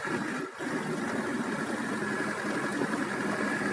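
A car engine drones steadily at low, even revs while driving slowly over a rough rural road near Kharkiv, a constant close rumble with no talking.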